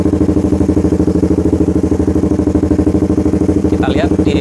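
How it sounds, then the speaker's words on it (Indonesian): A motorcycle engine with a misfire problem idles close by, with a steady rapid putter and slight unevenness in the rhythm, loud and continuous, and a brief higher whine near the end. "Oke, kita nyalain langsam dulu kayak gini."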